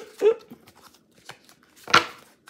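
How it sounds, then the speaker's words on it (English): Playing cards are shuffled in two quick riffling bursts separated by quieter rustles and taps, close and fairly loud, as part of a card reading. "So I'm going to do the shuffling first, and then I'll read everything."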